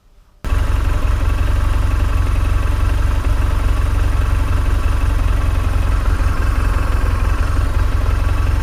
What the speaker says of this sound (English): And the bikes are out there.